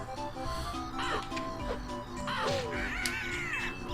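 Crow-like birds caw in the video game Banjo-Kazooie, giving several harsh, rising calls over steady game music, with nobody talking.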